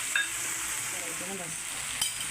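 Masala stirred into sizzling mutton curry in a pan, a steady hiss of frying with soft scraping strokes of the spoon and a couple of light clinks.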